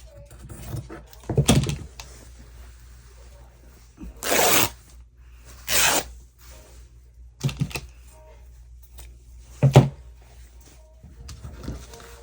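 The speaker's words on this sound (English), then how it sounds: "I'm gonna rip it" Material being ripped apart by hand for a cover: several sharp, close tearing bursts separated by quiet gaps, with faint handling noises in between.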